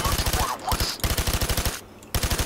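Rapid automatic gunfire from a Payday 2 heist, loud and continuous in several bursts with brief gaps between them.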